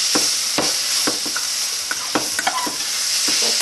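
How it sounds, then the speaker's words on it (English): Onions sizzle and fry in a pan for Sri Lankan seeni sambol, with a steady loud hiss and occasional stirring scrapes and pops. "I'm just going to fry it a little more."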